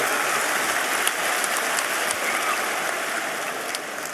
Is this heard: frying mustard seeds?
no